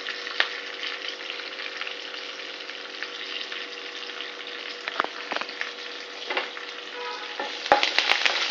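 Chopped garlic and ginger frying in oil for tomato chutney, a steady bright sizzle with occasional stirring clicks and scrapes near the end, no talking.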